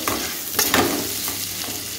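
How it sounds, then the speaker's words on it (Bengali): Potatoes frying in hot oil in a home kitchen while fried rice is being made, giving a close, steady sizzle with a brief stirring scrape, and no voices. "দেখো আলুটা ভাজা হচ্ছে এখন"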